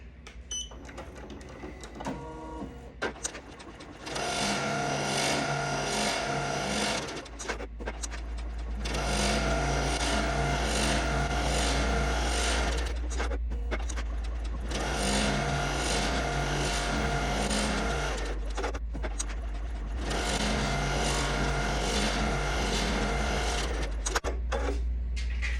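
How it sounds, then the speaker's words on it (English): An embroidery machine stitches the black outline of an appliqué design for glitter vinyl. It makes four rapid, rhythmic bursts of several seconds each with short pauses between, over a constant low motor hum. "Everything is set, ready to go and stitch."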